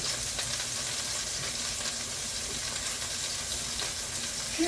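Grilled onions sizzle and fry on a hot grill surface in a steady, continuous hiss, close and moderately loud, with no talking over it.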